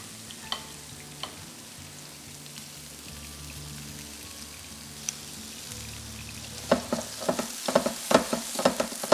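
Turkey meatballs fry in oil in a pan with a steady, soft sizzle that swells into louder popping and crackling spatters near the end, with no voices.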